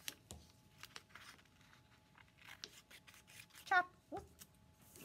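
Scissors snip quietly through paper to cut out a paper number, giving faint, irregular short cuts and rustles close by, with a small squeaky vocal sound near the end.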